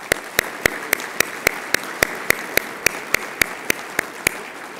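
Dinner audience at a city chamber of commerce annual banquet applauds, the sound coming across as a steady wash of clapping punctuated by sharp regular accents, fairly loud and without talk over it.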